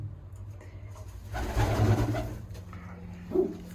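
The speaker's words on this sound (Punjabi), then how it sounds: "ਇਹ ਕਬੂਤਰੀ ਦਾ ਕਹਿੰਦਾ ਇਹ ਨਵੀਂ ਕਬੂਤਰੀ ਹੈ" A pigeon coos close by in a loft, one low throaty burst in the middle followed by a shorter call near the end, over a quiet hum.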